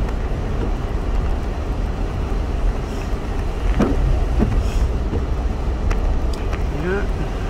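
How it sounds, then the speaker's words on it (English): A car drives slowly on a sloppy, wet, snowy winter road, with a constant road and tire rumble and slushy hiss, close and steady throughout. "this is what it's like driving in a wintry mess"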